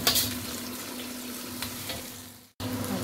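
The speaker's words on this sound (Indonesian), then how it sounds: "Tumis bumbu sampai wangi." Spices sauté in a pan for a jengkol and tempe stir-fry, giving a steady close frying sizzle with a light stir, broken by a brief cut near the end before the sizzle resumes.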